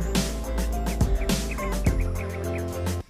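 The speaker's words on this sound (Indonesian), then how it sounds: "Dari kejauhan kedengaran burung dasih, burung pricoan," Wild birds, including turtle doves, call out in repeated bursts on the slopes of Mount Merapi, their harsh warbling cries overlapping and rising clearly above a steady low background hum.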